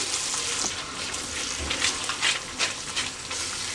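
Ground spice paste for malai kofta stirred and frying in a kadhai, a dense continuous sizzle with soft scraping strokes, close and fairly loud, no talk.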